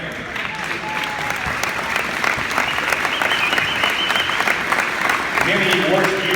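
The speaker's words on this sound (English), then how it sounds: "let's give a round of applause to the Heinz family" An audience at a high school Wall of Fame induction ceremony applauds steadily, a sustained wash of clapping from many hands filling the room with no speech over it.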